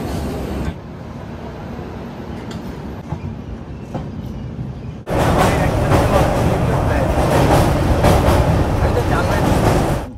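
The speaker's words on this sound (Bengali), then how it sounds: "আমাদের ট্রেন কলকাতা স্টেশন থেকে একদম কারেক্ট সময় ছেড়ে দিল" A passenger train runs after leaving Kolkata station, bound for Bardhaman Junction. A continuous rolling rumble with faint clatter grows much louder and fuller about halfway through, then holds steady and close.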